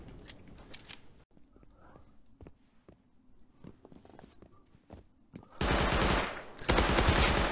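Video game gunfire in a shooter match: scattered sharp shots and short bursts through the first seconds, then a loud, dense sustained barrage of rapid fire near the end, with a player talking over parts of it.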